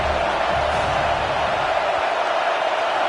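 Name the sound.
stadium crowd cheering during football game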